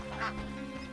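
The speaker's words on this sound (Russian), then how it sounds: "Гуси." Geese honking in The Witcher video game, a short, loud nasal call heard up close over a steady background hum.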